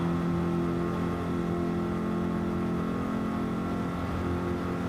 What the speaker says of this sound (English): At least the Corvette has good acceleration off the line.